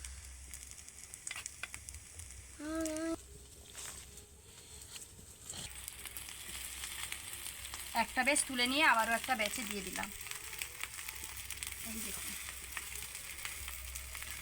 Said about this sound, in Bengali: আমি অল্প অল্প দিয়ে ভাজছি